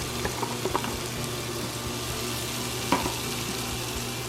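Chopped celery and onion sizzle in a pot with a steady, dense frying hiss, broken by a few faint clicks and scrapes of stirring.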